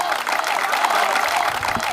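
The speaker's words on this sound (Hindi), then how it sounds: "जोरदार तालियां।" Loud applause from the audience at a Hindi comic poetry gathering, a dense continuous clatter of many hands with faint crowd murmur beneath, steady throughout.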